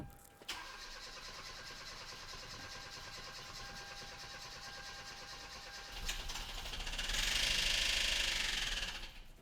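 A Hyundai Veloster Turbo that cranks but won't start, with a recently replaced fuel pump, turns over on a dose of ether in a steady droning crank that swells louder near the end as it briefly catches; no voices.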